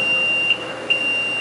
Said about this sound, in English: It beeps.